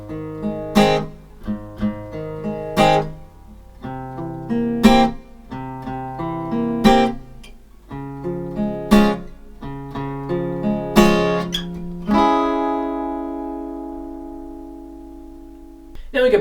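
A single acoustic guitar strums the chorus of a song in clear, evenly spaced strokes with ringing chords, ending on one long strum that sustains and slowly decays, with no voices.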